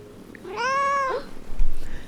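Moxie the cat gives one drawn-out, clear meow that rises and bends at the end, close and loud, followed by a brief low rustle.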